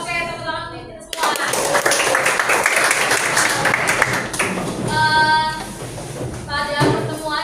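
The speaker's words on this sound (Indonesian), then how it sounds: "Oke, tepuk tangan untuk kita semua." A school class bursts into brisk clapping that lasts several seconds, with voices talking before and after the applause.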